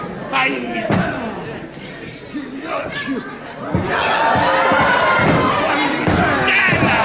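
A 1978 UK wrestling crowd reacting against Hungarian wrestler Zoltan Bostwick, with thuds and chatter early on, then a sustained loud roar of jeering from the hall beneath a commentator's voice.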